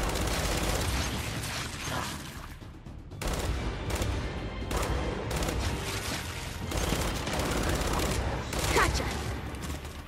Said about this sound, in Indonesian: Mantap senjata ini, lancer nih.